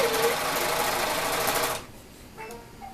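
A sewing machine stitching cloth baby wipes with white upper thread and blue lower thread, running loud and fast for under two seconds, then stopping into near quiet.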